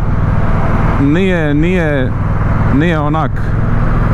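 A 2024 Moto Guzzi Stelvio motorcycle engine turns at low revs in city traffic. It makes a steady, low rumble throughout, underneath someone speaking close to the microphone.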